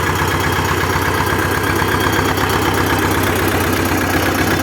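A T-25 tractor engine idles steadily and loudly through a garden-style exhaust pipe, a rough, even rumble with a fast chugging pulse, close by and uninterrupted.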